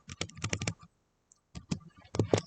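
Clicky taps on a computer keyboard in two short bursts separated by a pause, close and moderately loud, with no talking.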